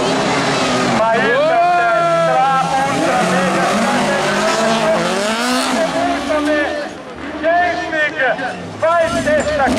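Autocross race car in a Swiss class B event spinning out after missing a corner, its engine revving and wailing with squealing tires, while an Italian commentator talks loudly over it throughout.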